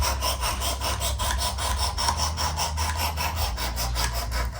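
A knife blade drawn repeatedly across the abrasive of a Work Sharp Precision Adjust Elite sharpener, giving a steady, close scraping rasp in regular back-and-forth strokes that continue without pause.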